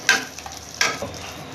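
Cashews and raisins roasting lightly in ghee for carrot kheer, two short bursts of crackling sizzle about three-quarters of a second apart, fairly soft and close.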